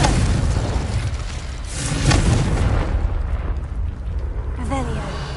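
A spell being cast in the Hogwarts Legacy video game, heard as a loud, sustained magical burst with a booming swell midway, over dense game effects and ending in a faint whistling tail.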